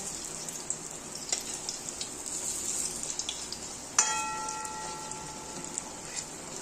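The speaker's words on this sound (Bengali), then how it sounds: "আমি এখন বড়াগুলোকে উল্টে দিচ্ছি আর একটা সাইড ভাজা হওয়ার জন্য" Bottle gourd fritters fry in a pan over a low flame, giving a steady close sizzle with one sharp metallic clink partway through.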